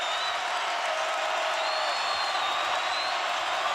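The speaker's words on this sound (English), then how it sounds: "As this crowd in Logan is up in a tizzy." A basketball arena crowd in Logan at a college game, Utah State hosting San Diego State, roars in a steady, dense wash of cheering and noise that holds at a constant level throughout.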